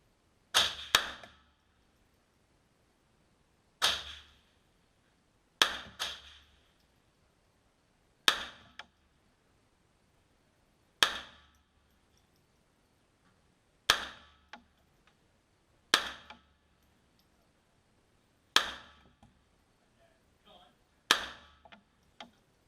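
Sharp .22LR gunshots from a Smith & Wesson M&P 1522 pistol with an 8-inch barrel: about ten separate cracks spaced a few seconds apart, each with a brief decaying echo, and quiet between shots.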